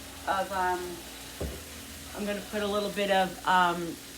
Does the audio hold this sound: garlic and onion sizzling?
yes